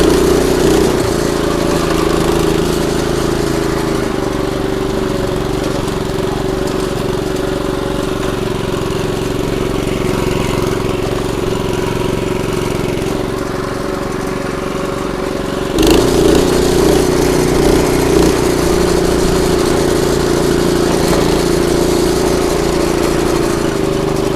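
An ATEX XG250 rubber-track dumper engine runs at full throttle in second gear, a loud, steady mid-pitched drone that continues without a break and rises slightly in intensity partway through.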